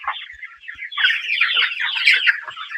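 Dense, high-pitched peeping from many young broiler chicks at once, a constant chirping chorus close by.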